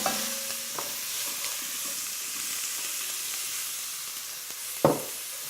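Vegetables sizzle and fry in a hot pan while being stirred, making a steady hiss with a sharp clatter of the utensil near the end.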